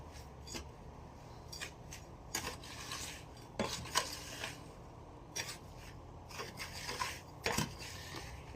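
Homemade cactus potting soil mix with added sand being stirred, a steady gritty scraping and rasping with repeated louder scrapes, close and continuous with no talking.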